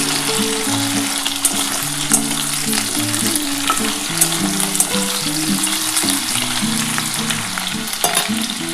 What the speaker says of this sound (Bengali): আগে আলুটা একটু হালকা করে ভেজে নিই